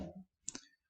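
Buttons on a Casio scientific calculator are pressed in a quick pair of close, crisp plastic clicks, heard right after a brief trailing voice.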